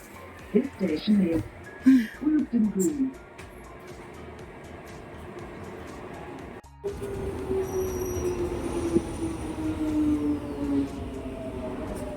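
The interior of a moving London Underground train approaching Finchley Road, with a steady loud rumble, rising wheel squeal and a brief gap in the noise; a voice speaks near the start.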